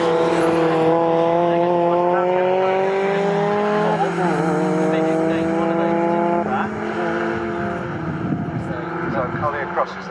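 Race cars at Snetterton circuit during an MGCC Cockshoot Cup race, several engines droning and shifting pitch as they pass, loud and continuous, with a commentator talking over them.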